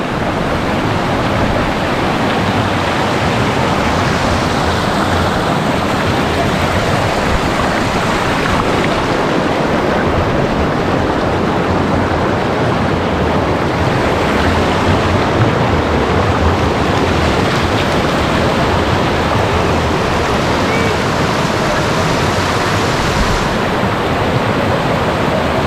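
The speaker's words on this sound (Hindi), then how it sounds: "और ये है आपकी अलकनंदा नदी।" The Alaknanda river in Uttarakhand rushes in a loud, steady broadband roar of flowing water, constant and close throughout with no voices.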